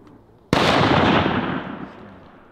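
A single shotgun blast goes off while duck hunting in a swamp during Ohio's waterfowl opening day. It comes with a sharp, loud crack, and a long, rumbling outdoor echo follows and slowly fades.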